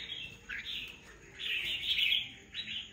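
Caged red-whiskered bulbuls chirp in bright, high, repeated short phrases at moderate distance over faint background noise.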